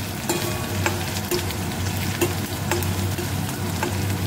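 Chopped garlic frying in a pan for a paneer dish gives a steady, close sizzle, with a utensil stirring and tapping now and then.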